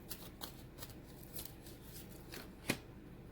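Tarot cards being shuffled and drawn by hand, soft papery riffles and flicks spaced through the clip, with one sharper snap near the end, quiet and close.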